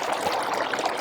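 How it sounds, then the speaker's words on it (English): Sewage bubbling up from flooding behind a backyard, a steady gurgling, pouring rush of water close by, continuous and fairly loud for the whole moment. "even bubbling sewage directly behind her backyard"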